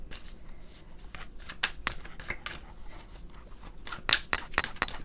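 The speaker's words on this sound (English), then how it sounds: "Now let's take 2 cards from this deck." Tarot cards being shuffled by hand, a series of crisp riffling and flicking bursts, close and fairly soft, growing busier toward the end with no talking over them.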